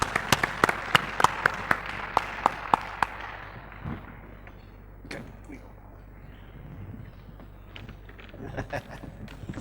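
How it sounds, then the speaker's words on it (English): Audience applause for a panel of speakers, a handful of loud, distinct claps close by over a few seconds, fading into quieter scattered clapping and room noise. "let's have a big round of applause for our panelists"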